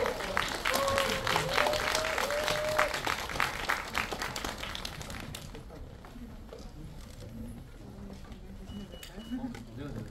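Applause from a film-festival audience at a tenth-anniversary screening event fills the first half, with a voice speaking over it, then fades into quieter room noise and scattered murmurs.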